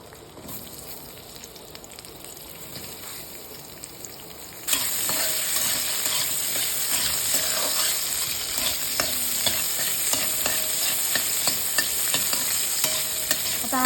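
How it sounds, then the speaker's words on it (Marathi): Cauliflower and other vegetables sautéing in a tablespoon of hot oil in a kadai, starting as a moderate sizzle, then jumping to a louder, crackling fry with steady stirring scrapes. "सर्व भाज्या आपण थोड्या तेलावर परतून घेणार आहोत"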